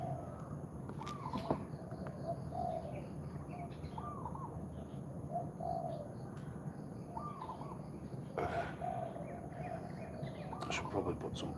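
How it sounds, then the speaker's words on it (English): Birds call softly in the morning outdoors, a few faint, separate chirps and coos recurring every second or so over a steady hiss of background noise, with occasional light knocks. "watching the birds."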